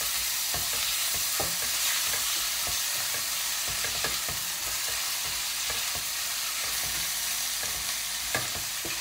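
Ginger, garlic and spices for a lamb curry fry loudly in a pan, a dense continuous sizzle broken by quick, repeated scraping stirs close by, with no voices.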